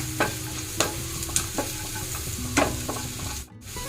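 Onions and green chillies frying in a pan for a potato stew, a steady close sizzle broken by several sharp scrapes and taps of stirring, with no talking.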